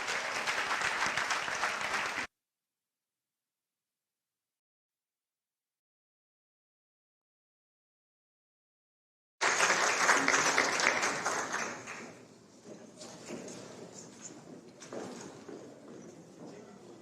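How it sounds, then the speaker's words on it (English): Audience applause at the close of the 48th Annual BCC Awards Ceremony as people leave, loud and dense, broken by a long silent gap, then returning and thinning out to lighter scattered clapping. "Applause as everyone heads out."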